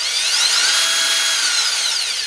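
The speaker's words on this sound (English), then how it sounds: "squeeze the trigger just a little bit, and it starts turning very slowly" A Bosch 18V cordless drill (DDS181-02) turns slowly in first gear, giving a steady, close, high-pitched motor whine that holds without pause and with no talking.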